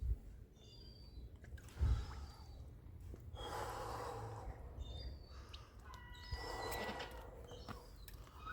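A person entering a cold dip breathes heavily, with sharp gasps and snorting exhalations coming in uneven bursts, close and loud, while birds call faintly outdoors.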